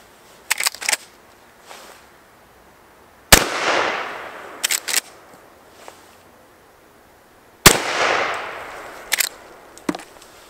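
A Henry lever-action Axe .410 shotgun fires high-brass shells loaded with copper-plated discs and BBs at a frozen fowl. Two sharp, loud blasts ring out several seconds apart, each followed by a decaying rumble, with lever clacks and handling clicks around them.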